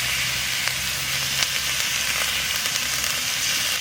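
Cumin, ginger and garlic paste sizzles in hot oil for a soya chunk kofta curry, a steady moderate hiss with faint stirring clicks.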